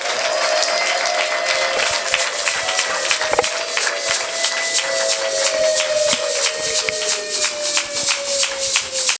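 A church congregation applauding, a continuous steady patter of many hands clapping at moderate distance, with a faint sustained tone running underneath.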